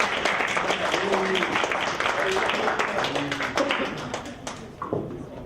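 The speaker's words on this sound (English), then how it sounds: "Round of applause for her, please." Clapping from a small crowd, a dense patter of hands with voices mixed in, tapering off near the end.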